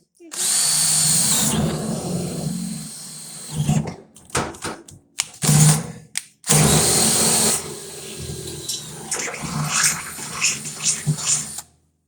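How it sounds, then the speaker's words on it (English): A power drill drilling through metal on a broken wheelbarrow whines loudly in two long bursts with short pauses and brief clunks between, grinding steadily close by. "We're going to drill straight through."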